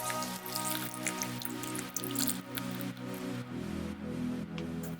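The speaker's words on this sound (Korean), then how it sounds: "이제 끓여진 육수 500ml를 넣고" Boiled broth, 500 ml of it, is poured into a pot of beef brisket tteokbokki, giving a continuous splashing, bubbling pour over a bed of steady background music.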